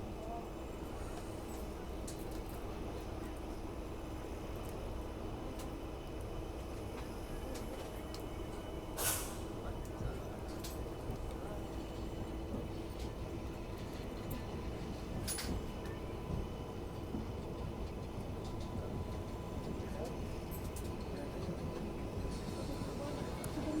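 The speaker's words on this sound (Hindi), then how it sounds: "9:50 पे हमारी ट्रेन का डिपार्ट हो गया है मक्सी जंक्शन से" A passenger train pulls away from Maksi Junction, heard from inside a general coach: a steady low rumble of wheels and carriage noise fills the whole stretch, with a couple of brief sharp clanks.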